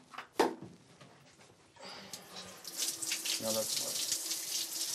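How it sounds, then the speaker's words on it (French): Shower water running in a small student room, a steady broadband hiss that starts after a couple of seconds and continues to the end, following a few faint knocks and a brief voice. "Voici ma super douche"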